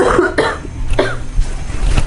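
Several harsh coughs burst out close by in quick succession, loud and raspy, with short pauses between them.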